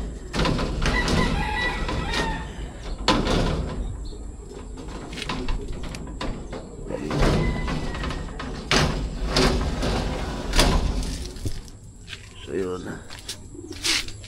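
Vandenbroek gamefowl roosters crowing and clucking in a breeder yard, several loud crows and clucks rising one after another near the listener, with someone talking over them throughout.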